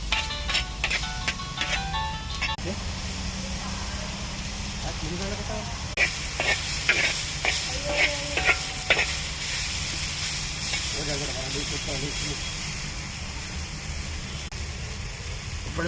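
Vegetables frying in hot oil on a pan over a wood-fire stove outdoors, a continuous hiss and sizzle with bursts of crackling, heard close under intermittent background voices and clatter.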